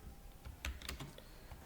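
Keys tapped on a computer keyboard while writing in Microsoft Word, a quiet, irregular run of close clicks with a few stronger strokes midway and no talking.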